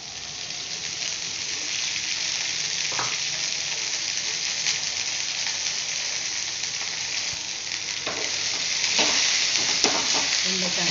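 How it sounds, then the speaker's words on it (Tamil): Vegetables for a pachadi sautéing in a little oil in a home kitchen pan, a continuous loud hiss and sizzle with occasional scraping stirs, rising slightly toward the end. "அது வதக்கிறதுக்கு கொஞ்சமாக எண்ணெய் விட்டுக்கலாம்"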